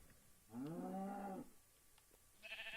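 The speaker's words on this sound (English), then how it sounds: "I think the sheep is about to get buried in here." A sheep in Minecraft lets out one clear, wavering bleat lasting about a second, fairly faint, followed by a few quiet clicks and a short higher game sound at the end.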